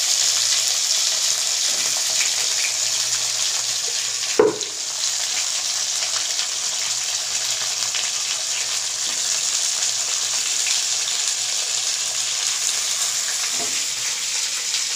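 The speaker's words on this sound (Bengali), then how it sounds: "আগে থেকে যে মাছগুলো ভেজে নিয়েছিলাম সেগুলো এক একে কড়াইতে দিয়ে দিই।" Pre-fried bhola fish pieces sizzle steadily in hot oil in a wok, with one brief splash and clatter as a piece drops in, and then a continuous close, even frying hiss.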